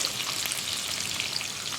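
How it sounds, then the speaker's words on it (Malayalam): Onion and green chilli sauté in a hot oiled pan for chilli paneer, a steady close crackling sizzle with fine spattering, continuous and even with no talk. "ഇനി ഇതൊന്ന് നന്നായിട്ട് വഴറ്റിയെടുക്കുക"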